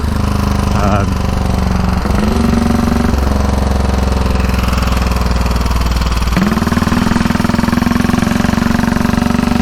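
A 1934 Velocette KTT Mark IV motorcycle engine runs loud and steady throughout, with a continuous low throbbing drone and slight shifts in pitch as the revs change.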